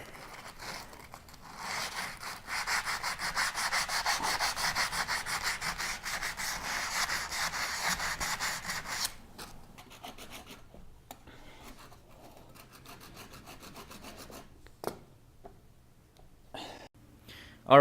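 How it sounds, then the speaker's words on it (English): Steady rasping of sandpaper rubbed back and forth over wood, loud at first and then lighter and more intermittent, with a few sharp knocks near the end. "now I'm just going to do a quick sanding over here"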